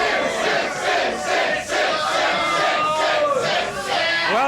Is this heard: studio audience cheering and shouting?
yes